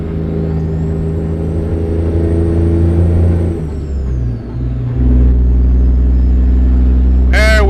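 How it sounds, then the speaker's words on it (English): A 620-horsepower Detroit diesel engine in X-Plane 11 drones loudly and steadily with a deep low hum, dipping briefly before settling into a heavier, lower drone, with a short bit of talk at the end. "you guys saw that Detroit diesel, man. We got 620 horsepower in this thing"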